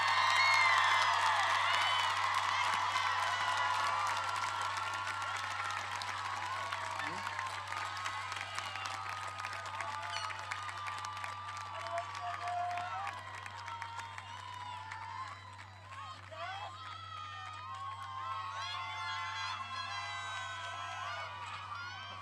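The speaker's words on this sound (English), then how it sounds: "let's give our class of 2022 one more hand of applause" A high school graduation crowd applauds and cheers for the class of 2022, sustained clapping with whoops and shouts spread across a large venue, gradually thinning over about twenty seconds beneath a steady low hum.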